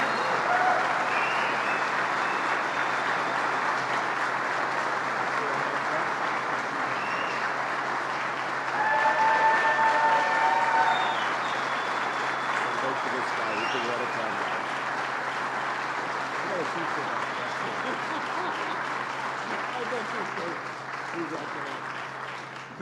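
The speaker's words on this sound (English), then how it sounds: "Let's give him a big round of applause." Sustained audience applause for Senator Charles Schumer at an Alcoa jobs announcement, a dense steady wash of clapping lasting over twenty seconds with a brief swell midway and scattered voices underneath.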